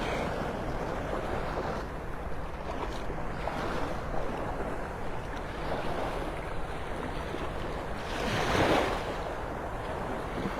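Surf washing steadily onto Vanderbilt Beach in North Naples, Florida, a continuous broadband roar with wind noise on the microphone and one louder breaking swell near the end.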